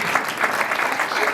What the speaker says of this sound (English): Oh, clap for Anthony people